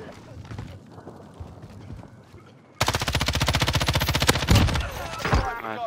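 Loud, rapid automatic gunfire in Call of Duty Warzone bursts in suddenly after a quieter stretch and keeps firing steadily, with more shots and impacts near the end.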